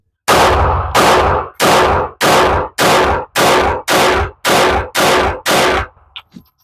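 Nine loud gunshots ring out close by in an even, steady rhythm, each a sharp crack with a short decaying tail, followed by a couple of faint clicks.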